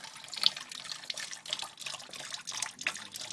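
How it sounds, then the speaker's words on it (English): Antifreeze drains from the radiator of a Toyota Avalon LX into a catch pan, a continuous soft trickling and splashing stream with small gurgles, close and fairly quiet with no talk. "we are draining through the tappet the antifreeze to do an antifreeze flush"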